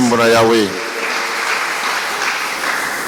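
A church congregation applauds the choir, a loud burst of clapping that fills the space after a voice briefly speaks at the start.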